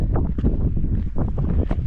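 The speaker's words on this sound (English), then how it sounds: "Up here, it's a little bit windy" Strong wind buffets the microphone in steady low rumbling gusts on an exposed peak in the Peak District, with no voices.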